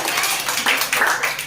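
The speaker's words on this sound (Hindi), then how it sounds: "ताली बजाओ" Children clapping their hands during a Hindi lesson, a quick burst of several claps that is fairly loud and close, with no talking.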